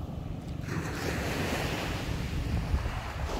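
Ocean surf and wind on a beach in Zambales, a steady broad wash of waves with gusty wind buffeting the microphone, fairly soft and continuous with no voices.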